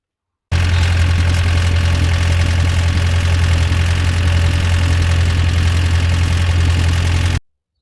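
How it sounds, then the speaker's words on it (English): A TT car with a fault idles loud and close. Its engine gives a steady, unbroken rumble with a rough knocking edge and no talking. "Keep watching for the noise of the TT"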